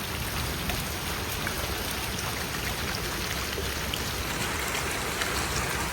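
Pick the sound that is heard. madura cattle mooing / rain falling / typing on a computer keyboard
rain falling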